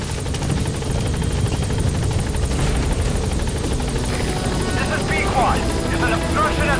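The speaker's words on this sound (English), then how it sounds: "Support helicopter has arrived." A support helicopter's rotor thumps and engine whine fill the scene in Metal Gear Solid V: The Phantom Pain, steady, loud and close, with faint voices and brief electronic chirps toward the end.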